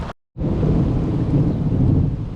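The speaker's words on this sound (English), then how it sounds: "You might still hear the thunder left over from that lightning." Thunder during an urban thunderstorm near water comes after a brief moment of silence as a loud, deep, continuous rolling rumble with a rough, wind-like texture.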